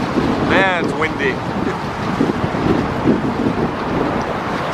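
Wind gusting at a stadium construction site, buffeting the microphone with a rough, continuous rumble, while a voice speaks briefly near the start.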